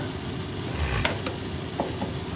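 Peas tossed into a frying pan for a home-cooked meal give a steady sizzle with a couple of brief scraping stirs, close and moderately loud, with no talking.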